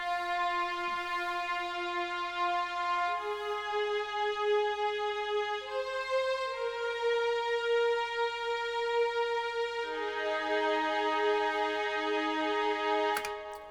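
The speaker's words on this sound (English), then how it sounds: "for this one, I'm using the soft legato strings" Soft legato strings from a music plugin in an emo plugg beat play a slow melody of long sustained notes, each gliding smoothly into the next, clean and steady with no drums or voices.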